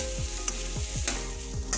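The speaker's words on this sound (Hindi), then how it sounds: "प्याज को अच्छी तरह से गोल्डन कलर होने तक फ्राई कर ले रही हूँ।" Finely chopped onions fry in hot oil in a pan with a steady soft sizzle, while a spoon stirs them with a few light scrapes and taps against the pan.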